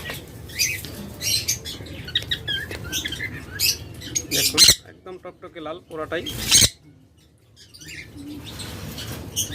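Lovebirds and cockatiels in a breeders' aviary chirp and tweet near and far, with a burst of flapping wings, while someone talks over the birds throughout.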